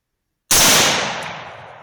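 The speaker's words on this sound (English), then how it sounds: "Those two shots ended up just clipping his backside." A gunshot fired at a wild boar while hunting cracks out as one loud, close blast after near silence, with a long echo fading away.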